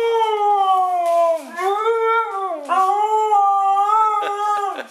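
A husky howls continuously and loudly up close in a backyard setting, the long pitch-bending wail rising and falling in several swoops across the whole stretch, with no talking over it.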